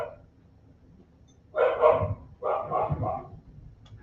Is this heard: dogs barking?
yes